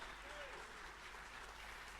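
A church congregation claps during a Sunday Father's Day service, a quiet steady patter of many hands heard from a distance, with a low hum beneath and faint voices.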